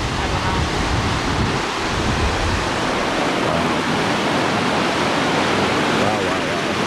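A waterfall in Olympic National Park roars as a dense, steady wash of rushing water, loud and unbroken, with wind buffeting the microphone and a voice briefly under it.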